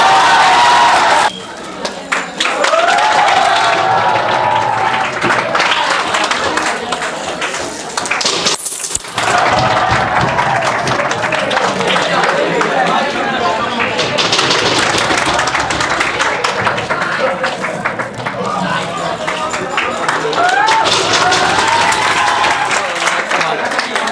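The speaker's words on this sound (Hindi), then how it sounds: "जोरदार ताली एक बार" Loud, sustained applause and clapping from an audience at a ceremony welcoming a JEE-Main topper, continuous broadband roar with a brief dip midway, crowd noise mixed in.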